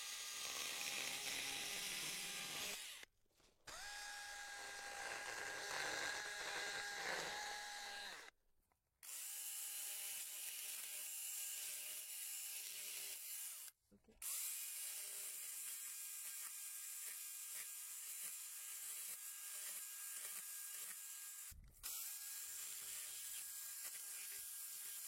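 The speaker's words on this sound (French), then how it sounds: "une fois qu'on verra l'amadou, on ira gratter avec le nez du guide" A chainsaw runs at high revs as the nose of its guide bar scrapes out decayed, punky wood from a diseased grapevine trunk, with several brief pauses between long grinding passes.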